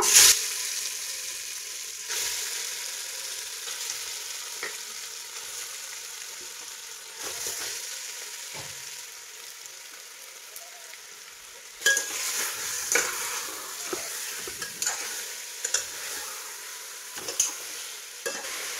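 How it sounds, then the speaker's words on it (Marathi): Marinated chicken fries in hot oil inside a pressure cooker with a low, steady sizzle, broken by occasional clinks and scrapes of stirring that come louder and busier near the end. "आता आहे ना चिकन शिजायला घालते।"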